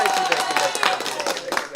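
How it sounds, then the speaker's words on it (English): Canned applause sound effect triggered by a button press at home, a short burst of dense clapping running under overlapping talk for under two seconds. "give me more applause"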